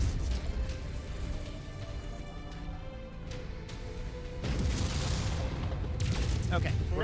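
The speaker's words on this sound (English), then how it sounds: "Lead unit receiving heavy fire." Heavy weapons fire pounding a mech in MechWarrior 5, a continuous rumbling barrage of bursts and explosions with mechanical clanks, building louder toward the end, while a voice briefly talks over it.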